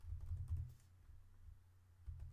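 Light typing on a computer keyboard, a short run of soft, close key taps in quick bursts over a low hum, with no talk.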